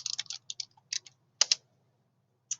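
Fingers tap out a short burst of quick, light clicks on a computer keyboard. After a brief pause, one last keystroke follows. The taps are close and clear, and no one speaks.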